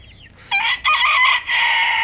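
A young Istanbul (Indian) breed rooster, raised alone in a city-centre coop, gives one loud, close crow in a few broken segments, preceded by a faint cluck.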